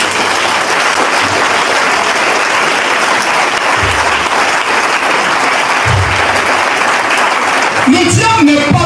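Loud, dense applause rises from a church congregation acclaiming the Lord Jesus and rolls on steadily for several seconds, with voices and cheers breaking through toward the end.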